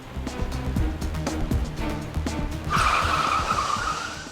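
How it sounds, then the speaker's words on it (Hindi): A car skids hard to a sudden stop on a road, a long loud tire squeal cutting in after a few seconds of engine rumble and rattling. "गाड़ी क्यों रोकी?"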